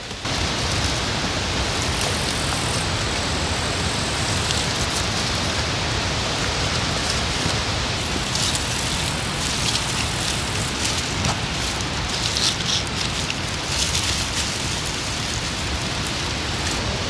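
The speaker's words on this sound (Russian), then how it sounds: "Ой, дождь начинается." Outdoor rain begins falling around a garden bed, a dense steady hiss of drops filling the whole scene at close range, with no talk over it.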